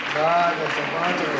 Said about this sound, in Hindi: पीछे के लोग भी एक बार तालियां बजाओ